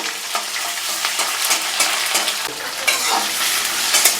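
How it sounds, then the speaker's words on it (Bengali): Chopped onions fry in a pan with mustard seeds for a tangy mango dal, a steady dense sizzle broken by frequent stirring scrapes, close and fairly loud throughout. "পঞ্চাশ গ্রাম কাটা পেঁয়াজ দেবো একে খুব লাল করে ভেজে নেবো"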